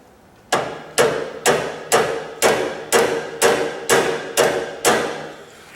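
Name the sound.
hammering out metal center piece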